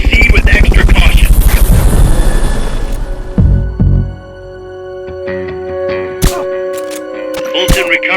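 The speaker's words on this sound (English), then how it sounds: "Fulton recovery subject confirmed onboard helicopter." A Fulton recovery helicopter in Metal Gear Solid: Peace Walker throbs loudly with a rapid rotor pulse for about three seconds, then fades out, leaving scattered clicks, tones and interface sounds from the game.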